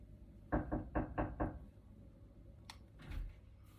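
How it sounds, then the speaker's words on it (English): A light knock at a door, likely from a dog outside: five quick, soft raps in an uneven rhythm, then a sharper tap and a duller thump a moment later, close by in a quiet room. "There was a little knock at the door"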